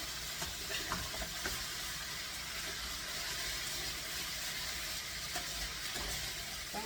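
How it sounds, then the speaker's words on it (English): Steady sizzling of potatoes frying in a pan, a continuous crackling hiss with occasional louder pops and stirring scrapes, close up and no talking. "I'm going to be frying these potatoes up, and they're going to get crunchy"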